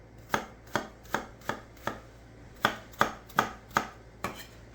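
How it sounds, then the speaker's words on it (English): Onions roughly chopped with a knife on a cutting board for a sweet and savory curry meatloaf: about eleven crisp, close knocks in an uneven rhythm, with no talk. "These don't have to be perfect, just give them a nice rough chop."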